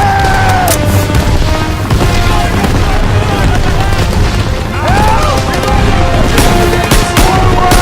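Dense, continuous machine gun fire in Call of Duty WWII, loud and relentless with booming impacts and overlapping bursts throughout, in a hillside battle against enemy MG nests.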